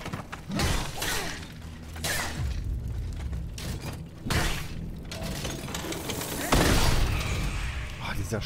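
A few loud gunshot bursts from the video game Steel Rising crack out over dense, rumbling game noise, one near the start and others later.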